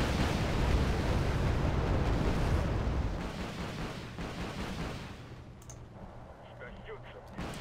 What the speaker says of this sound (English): These are firing 80mm rockets, so it will do some damage before they're out of missiles